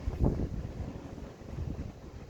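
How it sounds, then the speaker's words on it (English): Strong wind buffets the microphone on a stormy shore at New Brighton during bass fishing, a steady low rumble with one heavier gust near the start and no talk. "So wind's still very strong at the moment."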